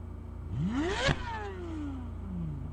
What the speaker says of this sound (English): you hear how fast that thing revs?